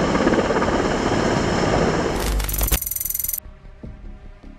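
A Mi-26 heavy helicopter's rotor and turbines roar loudly and steadily, then break into a short burst of rhythmic chopping before falling to a quieter hum.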